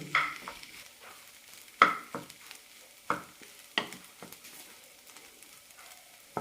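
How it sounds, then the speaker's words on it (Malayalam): Rice upma being stirred in a pan, with a series of separate scraping spoon strokes at an irregular pace over a faint background sizzle, close and fairly quiet, with no voices. "ഒന്നുകൂടി നന്നായി ഇളക്കാം ഉപ്മാവ് നന്നായി വെന്തിട്ടുണ്ട്"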